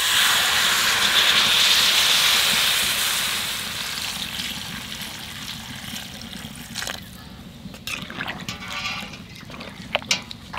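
Hot water poured into a pan of braised country chicken curry, giving a loud rushing hiss and steam that gradually fades into quieter bubbling and a few clinks near the end.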